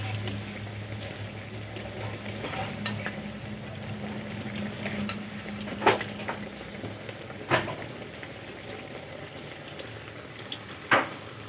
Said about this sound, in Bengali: পকোড়াগুলো এভাবে উল্টিয়ে পাল্টিয়ে ভেজে নেব।